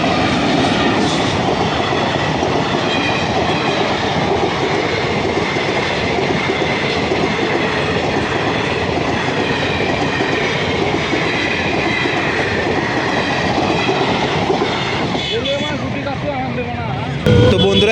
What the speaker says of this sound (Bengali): এখান থেকে এখন ট্রেন যাবে সেই জন্য